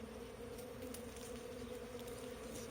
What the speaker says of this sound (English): So we've already got bees gathering on the wax.